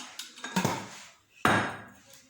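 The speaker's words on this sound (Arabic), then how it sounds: "غنبدا نحرك فيه حتى غيذوب ليا." A spoon scrapes and knocks inside a pot of orange jam mixture with sugar and water. A few scattered clinks are followed by two louder scraping strokes, close and clear, with no talking.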